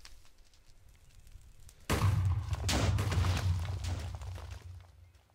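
A burst of explosions in a space station video game erupts abruptly after a quiet stretch, then keeps up as a loud, sustained rumbling roar with crackling debris before slowly easing off.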